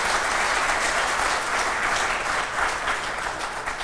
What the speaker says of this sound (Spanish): pido un aplauso para nuestro expositor William Anco Mamani